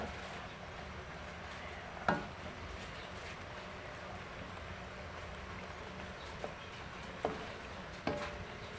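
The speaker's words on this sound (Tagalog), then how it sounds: "Halo-haloin natin kasi mabubuo guys yung gata, kaya kailangan laging hinahalo." Coconut milk simmers in a pot of spicy ginataang malunggay with dilis, giving a soft, steady bubbling hiss, while a spoon is stirred through it and knocks sharply against the pot a few times.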